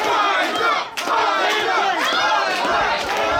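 A dense wrestling crowd in Philadelphia roars and chants loudly at an indie match, sustained yelling from many voices filling the whole space.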